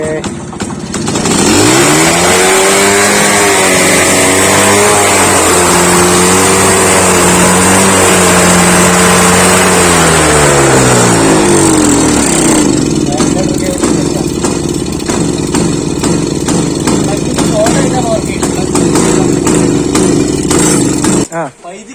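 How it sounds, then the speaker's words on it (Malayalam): A 26-year-old Rajdoot 175 two-stroke motorcycle, just kick-started from cold, runs loud and close with its throttle stuck by a jammed accelerator cable, racing and revving high before settling into a steady, buzzing two-stroke drone. "രണ്ട് മൂന്ന് കിക്ക് തന്നെ സ്റ്റാർട്ട് ആയിട്ടോ പിന്നെ അത് ആക്സിലേറ്റർ കേബിൾ സ്റ്റെക്കാണ് അതുകൊണ്ടാണ് വണ്ടി റേസ് ആയിക്കൊണ്ടിരിക്കുന്നത്"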